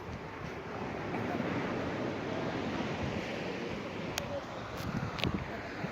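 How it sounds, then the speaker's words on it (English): Ocean waves wash steadily onto Muir Beach, California, a continuous broad surf roar mixed with wind on the microphone and a few faint distant sounds. "Beautiful Muir Beach."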